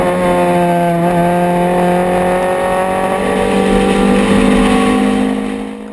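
A small slick-tyred race car accelerates hard along a circuit straight at Bulawayo, its engine note climbing steadily through the gears with strong harmonics, loud and continuous with no talk.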